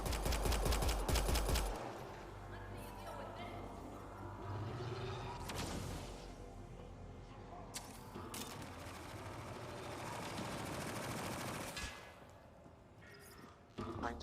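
Rapid sentry turret gunfire in the Mass Effect Andromeda video game, a loud burst of repeated shots up front followed by continuous sci-fi combat noise and speech-like game sounds throughout.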